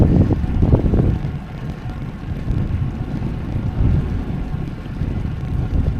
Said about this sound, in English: The wind today is more or less sort of west-southwesterly, I think, and so it's coming at me more or less as a headwind